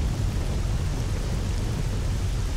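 Dense, loud rain roar with low thunder rumble in a nighttime storm in the video game S.T.A.L.K.E.R.: Shadow of Chernobyl, continuous and steady throughout with no voices.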